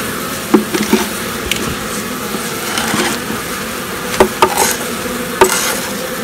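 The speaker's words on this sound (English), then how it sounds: "all the bees are corralling the hive beetles in that corner" Steady buzzing from many honeybees inside an open hive with hive beetles fills the clip, with a few sharp knocks and taps on top, close by.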